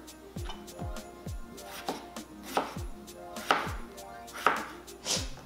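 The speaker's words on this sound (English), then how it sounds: "when you cut your potatoes, you're literally just cutting it in cubes" A knife chops potatoes into cubes on a board, about a dozen crisp thuds landing in an irregular rhythm, close and clear with no talking.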